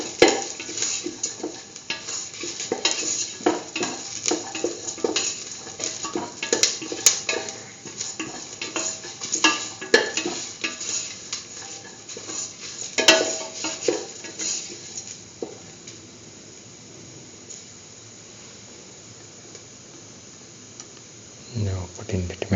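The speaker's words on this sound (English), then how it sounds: "Put in the red chillies, saut" Red chillies sautéing in a pan for a curried lentil and egg stew, with steady stirring scrapes, clinks of a utensil against the pan and a soft sizzle that fade to near quiet before a final clatter.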